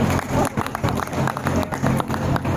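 Uttar Pradesh police in the audience at the Bulandshahr exhibition poetry gathering clap in a loose, uneven burst, with sharp claps scattered over a murmuring crowd.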